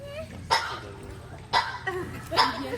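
A parrot imitates coughing, giving three short harsh coughs spaced about a second apart, fairly close and moderately loud, with no speech during them.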